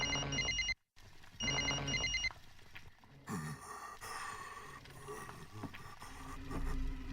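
A phone rings twice in the horror video game NightCry, giving two bursts of trilling electronic rings separated by a brief silence. Clattering, mechanical game sounds follow.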